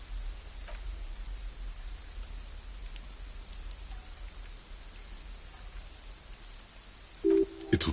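Steady rain pours in the video game Disco Elysium, a continuous wash of raindrops on surfaces with faint scattered drips and a brief tonal blip near the end.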